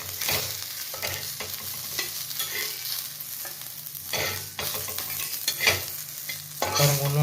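Vanjaram fish pieces frying in a pan, a steady close sizzle of hot oil with frequent stirring and scraping as the fried pieces are lifted out one by one, no talking.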